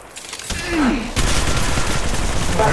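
Rapid gunfire erupts during a match of Apex Legends Mobile, a dense fusillade of shots that starts after a short lull and carries on loud and continuous to the end.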